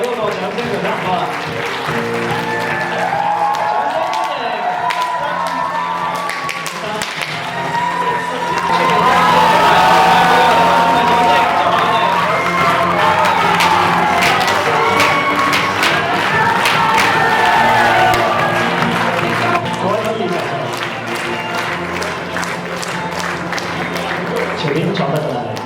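Wedding guests clap and cheer for the newlyweds, a dense crowd applause that swells in the middle with whoops and shouts, loud and near, and voices mix in throughout.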